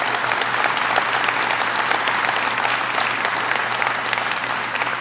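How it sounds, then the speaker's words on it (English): An audience gives the governor of North Carolina a big round of applause at an event promoting jobs and innovation. The clapping is thick and sustained, steady and close, and a faint low hum sits underneath. "Please give her a big round of applause."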